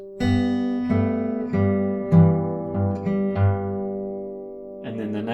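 Acoustic guitar fingerpicks a measure from the chorus of a song, alternating plucked notes over a pulsing low bass, close and clear, ending with a fresh strum near the end.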